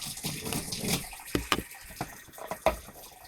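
Hot water runs steadily into a sink in a stained-glass workshop, with a gushing, splashing flow broken by a few small clunks.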